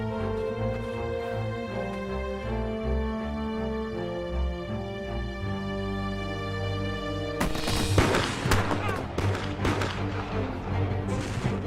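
Gunfire erupts in a foggy battle reenactment, first masked by a droning musical score, then a dense volley of sharp cracks and booms breaks out partway through and keeps crackling over the music.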